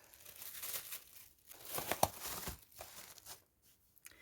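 A small plastic bag crinkles and rustles in close, irregular bursts while strawberry seedlings are being planted, with one sharper crunch midway and quieter pauses around it.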